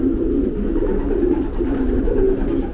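A racing pigeon from an auction coos in a low, steady, repeating rumble, close and loud with no voices over it.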